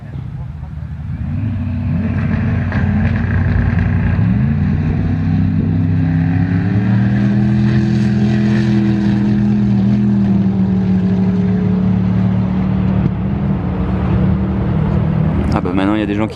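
Two hypercars, a Koenigsegg Regera and a Koenigsegg One:1, launch hard on an airport runway, a loud sustained engine roar with rising pitch as they accelerate away together, echoing, with speech faintly mixed in.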